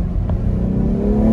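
A BMW X4 M Competition, a 600 hp performance SUV, revs in a parking lot, its engine note rising steadily and loud over a constant low rumble, close to the car with no talking.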